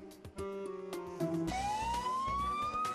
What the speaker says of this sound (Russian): А как выключить сирену?